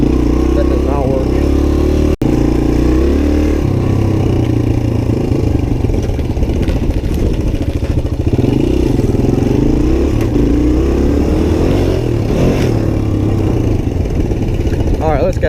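A Suzuki DR-Z 125 pit bike engine buzzes and revs at close range during riding, rising and falling through gears with a rattly, clattering tone and a sharp knock early on.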